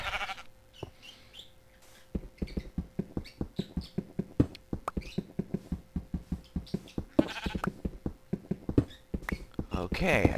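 Sheep bleating in the video game Minecraft, short repeated bleats over a dense run of rapid clicking and tapping from gameplay, with someone talking over part of it.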